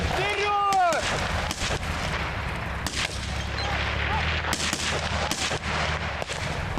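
Gunfire from paratroopers' close-combat assault training with live ammunition: repeated sharp shots in irregular bursts, loud and close, over a steady rumbling background.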